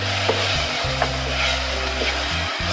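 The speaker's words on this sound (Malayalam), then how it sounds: "ഇത് നന്നായിട്ട് എണ്ണയിൽ കിടന്നൊന്ന് മൂക്കണം" Ground masala paste fries in oil in a pan, giving a steady low sizzle with a few soft stirring knocks, close and unbroken by speech.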